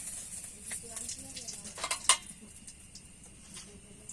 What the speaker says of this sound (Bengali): এখন দিয়ে দিচ্ছি তেজপাতা।